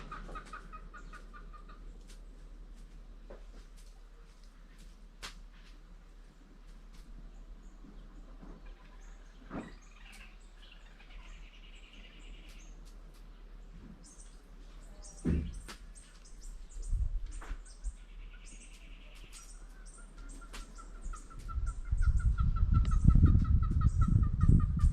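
Fowl and birds call outdoors in a quiet countryside spot, with scattered clucks and chirps at a moderate distance. A low rumble swells toward the end.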